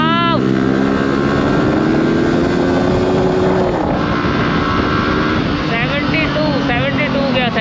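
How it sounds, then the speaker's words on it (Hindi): A Yamaha R15 sport motorcycle on a hill road in Uttarakhand, its engine loud and close, droning steadily and revving with rising and falling pitch throughout. "सुपर बाइक भाई साहब"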